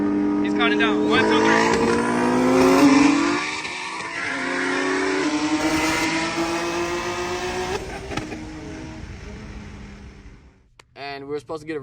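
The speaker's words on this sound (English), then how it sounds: "You guys can clearly hear that the car took forever to build boost." A built Nissan Z launches in a street race, engine note climbing through rising harmonics as it pulls hard, loud and close, then a gear change and fading drive before a brief sharp burst near the end.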